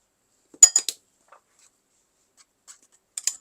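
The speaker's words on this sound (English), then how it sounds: "Just mixing into the flour and then just sprinkle in the flour." A utensil scrapes and clinks against a bowl while baking powder is mixed into flour for vanilla cupcakes, a quick cluster of three light taps, then sparse faint ticks and a final pair of clinks.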